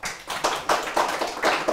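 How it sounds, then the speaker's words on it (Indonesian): Audience applause after a talk, a small group clapping in rhythmic, pulsing bursts, close and moderately loud. "Tepuk tangan dong."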